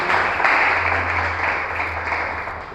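A church congregation applauds during a service, a dense, sustained wash of clapping that slowly fades over a few seconds, with no clear voices.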